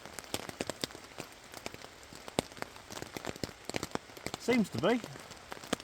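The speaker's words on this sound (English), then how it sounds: "First time I've used this tent in the rain" Rain falls on a tent pitched in woodland, scattered drops tapping the fabric close by in an irregular, quiet patter. A voice speaks briefly near the end.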